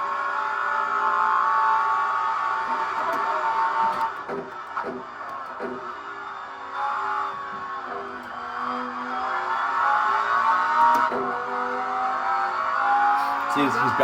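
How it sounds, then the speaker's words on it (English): A car engine revs up and down as the driver works the throttle and brake, with rising and falling tones, short tire squeals and people talking over it. "he's balancing the car using both pedals. So at no point is he not on the throttle or on the brake."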